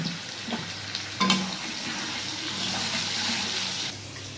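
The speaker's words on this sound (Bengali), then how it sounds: "এই যে তেলটা গরম হয়ে গেছে, এবার আলুগুলোকে ভেজে নেবো।" Salted potato pieces fry in hot oil, a steady close sizzle with a sharp clatter of stirring early on, no voices.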